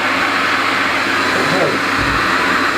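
A workshop dust extractor runs at a steady, loud, continuous drone in a woodworking shop, with a low motor hum throughout.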